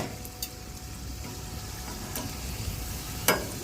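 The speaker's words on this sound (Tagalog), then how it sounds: "Okra natin guys. Piniprito namin." Okra frying in a pan, a steady close sizzling hiss with a few faint clicks and one sharp tap near the end, no talk.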